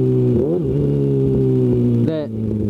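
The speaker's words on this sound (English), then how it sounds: "the exhaust is just so loud" Loud, close engine exhaust drone with rising and falling pitch as the rider shifts, a sharp rev near the end, and possible voice underneath.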